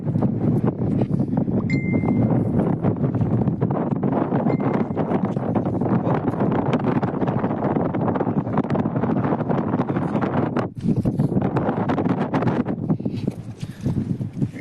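Strong wind blowing at sea on a fishing boat, a continuous loud low rumble buffeting the microphone with little break.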